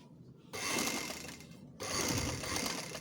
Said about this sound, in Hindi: हमने यहाँ पे अपनी सिलाई मशीन को रोका